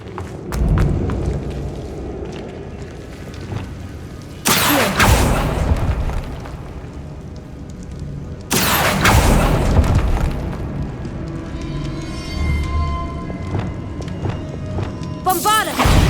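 A Bombarda blasting spell detonates in Hogwarts Legacy, giving a few loud, sudden booms spaced several seconds apart over a rumbling cave-like ambience, with a voice speaking in between.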